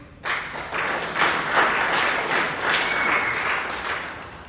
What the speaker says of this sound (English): I think we should have a big round of applause